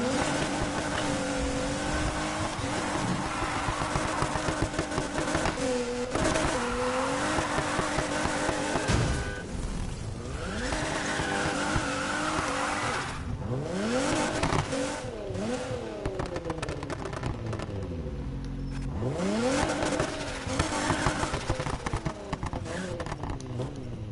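A car on drag tires drives and revs, its engine rising and falling through gear changes over a steady drone, with occasional tire noise.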